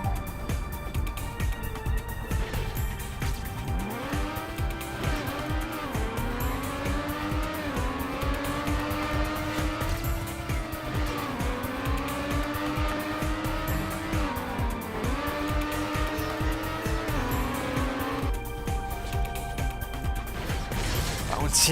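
In a video game, a race car's engine whines through shifting revs while its tires skid, ending in a bump into a wall, with the sound steady and fairly loud throughout.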